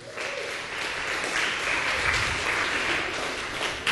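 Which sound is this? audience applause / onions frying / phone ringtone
audience applause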